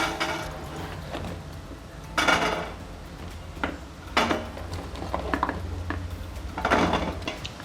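Metal clatter as a sieve is set into a pot of water on a kitchen stove for boiling amla (Indian gooseberries), a few distinct clanks and knocks spaced over steady low background hum, close and fairly loud.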